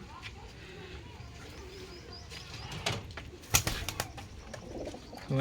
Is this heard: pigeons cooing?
yes